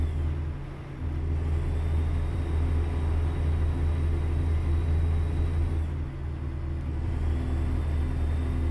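Steady low engine rumble of road traffic and a truck in American Truck Simulator, a continuous droning hum with a brief dip near the start and another around six seconds, no voices.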